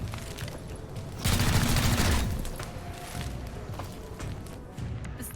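Gunfire in XCOM: Chimera Squad, a loud burst of shots in the middle of a busy combat mix, with smaller reports and impacts scattered around it and no talk.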